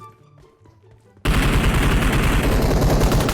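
Sustained, loud burst of automatic gunfire from the mobile battle royale game PUBG Mobile, erupting abruptly after a quiet stretch of faint game ambience and continuing without pause to the end.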